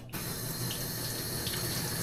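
Water starts abruptly from a tap and runs steadily into a sink, a close, constant hiss with no talk.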